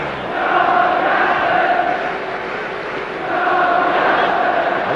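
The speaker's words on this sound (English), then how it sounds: "now they're chanting Johnny Aston, Johnny Aston" A large football crowd at Old Trafford during a 1968 European Cup match against Benfica chants in two loud sustained swells, a distant roaring mass of voices filling the stadium.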